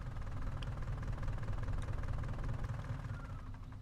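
A Fendt tractor engine in Farming Simulator chugs and idles with a steady, close diesel rumble and a knocking pulse, with no voices.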